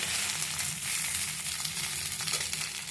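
Leftover rice frying in a pan with egg and onion, giving a steady, loud, close sizzle that holds evenly throughout with faint stirring scrapes underneath.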